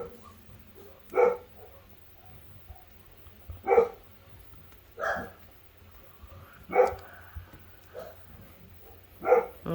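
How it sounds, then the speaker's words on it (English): A pet dog named Makita barks from a far hallway, six separate sharp barks spaced a second or two apart, moderately distant with a slight room echo and quiet gaps between. "She doesn't even know why she's barking."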